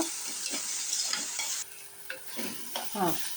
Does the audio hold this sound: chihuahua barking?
no